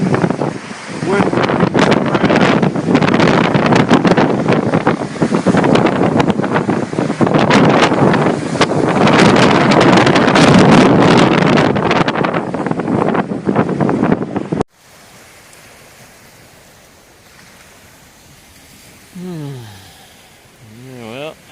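Strong wind on Lake Tennyson roars and buffets the microphone in a loud, continuous rush, then cuts to a much quieter stretch where a voice is faintly heard.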